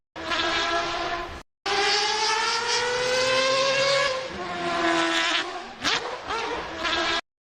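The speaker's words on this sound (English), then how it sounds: "The biggest thing is listen to the downshifts." Racing game engine note with strong harmonics rising and falling through the gears, a Mazda 787B prototype race car in Project Motor Racing, with a brief cut and a sharp downshift blip near the end, loud and continuous.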